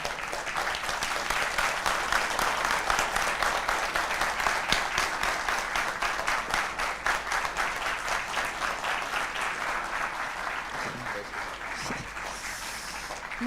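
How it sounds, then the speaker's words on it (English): A large audience at a youth consultation event at IIM Raipur applauds as a memento is presented. The clapping is loud, dense and sustained, then thins toward the end. "A huge round of applause for sir, please"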